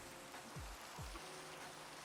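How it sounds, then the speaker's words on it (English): Rain falls in a Minecraft world as a steady, soft hiss spread across the whole stretch, with a couple of low thumps in the middle and no talk. "Rain."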